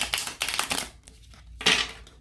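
A deck of self-care activity cards riffle-shuffled up close: a few short, crisp papery bursts with gaps of near quiet in between.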